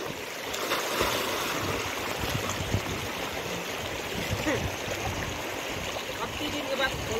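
A small, cold village river flowing steadily, a broad continuous rush of water heard close, with faint voice-like sounds under it.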